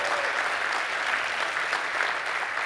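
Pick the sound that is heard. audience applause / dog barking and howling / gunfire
audience applause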